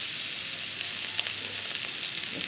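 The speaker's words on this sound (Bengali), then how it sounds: "যে কচু চিংড়িগুলো ভাজি করে নিচ্ছি" Small prawns fry in hot oil in a pan, a steady dense sizzle that stays even and close throughout with no voices.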